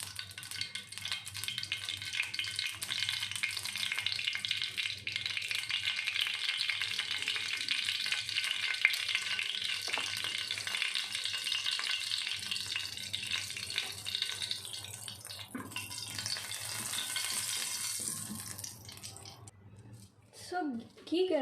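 Ghee heats in a pan for dal tadka, giving a steady soft sizzle and hiss that runs throughout at moderate level, with a few clatters near the end.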